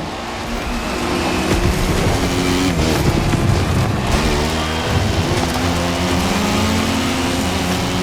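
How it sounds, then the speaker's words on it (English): Loud engines roar and rev together, a car and a motorcycle racing with shifting pitch as they accelerate, sustained and close, from the video game The Crew Motorfest. "Right now, the bike and the car are on the same course"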